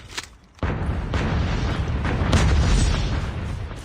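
Cluster strike explosions in the Call of Duty: Mobile battle royale. A brief quiet gives way to a sudden, loud, rolling barrage of deep booms that keeps rumbling to the end.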